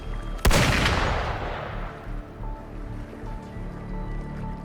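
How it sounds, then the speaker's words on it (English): A single sharp, loud gunshot blast in the game Wuthering Waves rings out and decays slowly into a low rumbling ambience, with faint tonal effects afterward. "Gunfire! We've got intruders."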